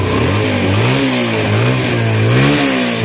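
A motorcycle with 60,000 km on the clock runs close by, its engine note rising and falling through several revs over a steady loud idle.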